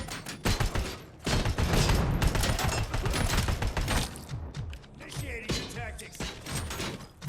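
Gunfire in the video game Detroit Simulator comes as dense, rapid volleys of loud shots and impacts that fade toward the end.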